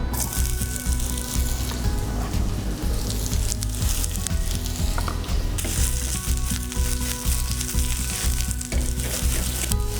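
Thinly sliced pumpkin fries in a pan of hot vegetable oil. The sizzle is loud, close and steady throughout, with scraping stirs now and then and no talking.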